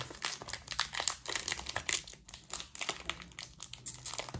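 A Pokémon booster pack wrapper is crinkled and torn open right up close, a quiet run of brisk foil crackles and rustles with no talking.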